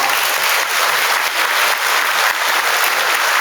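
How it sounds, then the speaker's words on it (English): A roomful of people gives a loud, dense round of applause for a second-grade class at a 2022 school awards day, the clapping steady and close throughout. "Let's give Miss Brown's class a round of applause"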